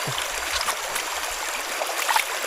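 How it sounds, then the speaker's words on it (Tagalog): Rice being washed by hand in a river, with a soft, continuous trickle and burble of flowing water and small splashes close by, no speech. "Yan, tayo po'y naghuhugas po ng bigas po."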